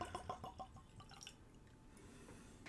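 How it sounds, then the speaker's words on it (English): A short pour of smoky Islay Scotch whisky into a glass: a quiet run of quick liquid trickles and drips lasting about a second, then a faint glassy settle. "Just a little pour tonight."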